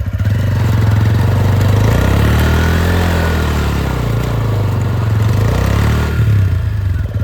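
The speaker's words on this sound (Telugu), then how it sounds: "బైక్ తోటి అయితే బర్న్అవుట్ కొడదాం, ఎట్లా వస్తుంది అనేది చూద్దాం." Motorcycle engine idling and revving steadily up close, a loud continuous throbbing rumble with rising and falling pitch, just before a burnout, no talk.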